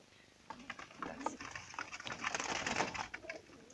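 Pigeons coo at close range, a few soft rolling calls with light fluttering and shuffling, faint and brief against quiet surroundings.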